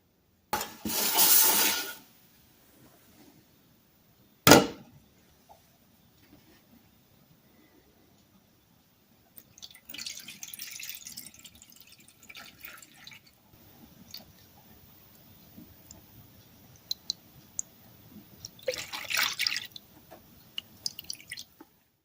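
A rusty hatchet set to soak in Evapo-Rust, with a sudden close splash and a sharp knock as it goes into the liquid, then long near-silence broken by small drips and faint wet sloshing.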